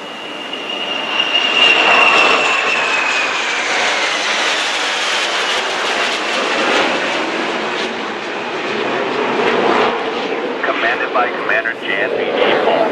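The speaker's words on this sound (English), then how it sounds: "Commander Jameson Soft Fincher piloting an FA-18E in the tactical tanker configuration, which will provide fuel to an EA-18G Growler" Loud, sustained roar of an F/A-18E Super Hornet jet engine aboard an aircraft carrier, a high whine fading over the first seconds into broad continuous rumble and wind-like noise, with voices faintly mixed in.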